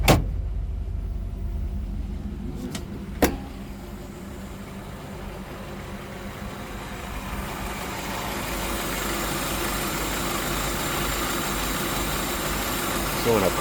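A 1966 Ford Mustang C-code engine idles steadily on a cold start with a slight ticking, holding a low, even rumble throughout, while a voice talks briefly over it near the start.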